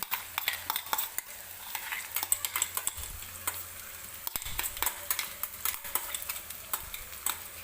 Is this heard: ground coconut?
yes